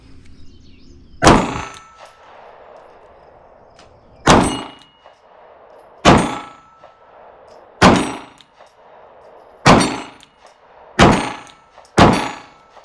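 Pistol shots ring on steel shooting targets, seven sharp impacts with a short decay, spaced a second or two apart at close range, and no one speaks.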